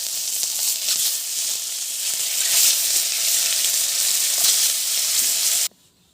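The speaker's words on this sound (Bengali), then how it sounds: "মাছ এক পিট ভাজা হয়ে গেছে আমি মাছগুলো উঠিয়ে দেবো" Loud, continuous sizzling and spitting of turmeric-rubbed shol fish frying in hot mustard oil, close by and unbroken until it cuts off abruptly near the end, leaving near silence.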